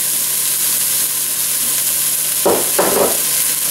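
Serrano and red chili peppers frying with onions in a pan give off a steady, close sizzling hiss throughout, with a couple of brief louder spatters or stirring scrapes near the end.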